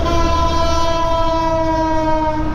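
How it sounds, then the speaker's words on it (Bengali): A train passing near Kurmitola in Dhaka, its loud, sustained horn blaring nearby over a rumbling rail roar. "আর পাশ দিয়ে ট্রেন যাচ্ছে।"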